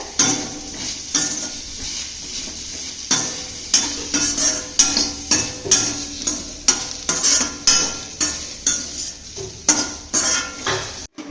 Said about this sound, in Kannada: ಇವಾಗ ಹಾಗಲಕಾಯಿ ಎಲ್ಲ ಫ್ರೈ ಅದು ನೋಡ್ರಿ